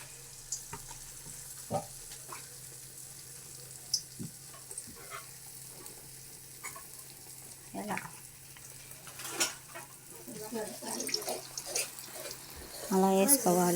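Vada batter frying in hot oil makes a faint, steady sizzle, with small clinks and splashes as pieces go in. Someone speaks over the cooking throughout.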